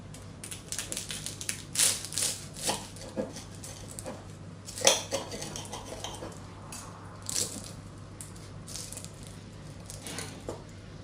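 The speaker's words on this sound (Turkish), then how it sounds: "Sesi duyuyorsunuz herhalde. Çıtır çıtır." Crisp crackling crunches as a knife cuts through a flaky syrupy şöbiyet pastry filled with custard, with scattered sharp crunches and a few louder snaps at close range.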